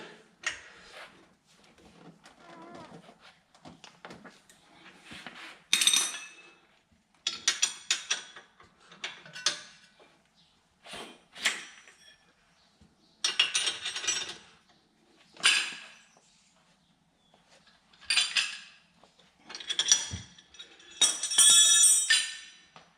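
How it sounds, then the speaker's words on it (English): Metallic clinks and ratcheting bursts from tightening brake caliper bolts on a 2008 Hyundai Santa Fe, arriving in short irregular spurts separated by quiet gaps, close up and without speech. "Tighten these bolts down real good."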